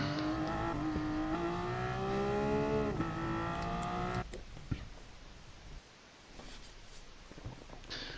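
A Group 1 race-style road car in GT Sport revs loudly, its engine pitch climbing steadily for about four seconds before cutting off abruptly, followed by quieter, rougher engine and road noise.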